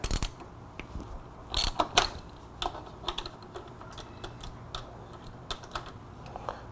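Wrench loosening the front wheel pinch bolts on a motorcycle, giving close, light metallic clicks and ratcheting ticks in scattered bursts, a few sharper clanks early on, with no talking.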